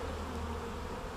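Bees from an exposed hive during a summer afternoon relocation buzz in a steady, dense drone that holds close and continuous throughout, with no talk.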